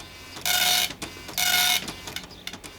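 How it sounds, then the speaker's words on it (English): A computer printer struggling with new paper: two loud bursts of whirring, buzzing print-head motion, each lasting under half a second, separated by a short pause and followed by softer clicks and ticks. "I think the printer doesn't know how to use your new paper, Ted."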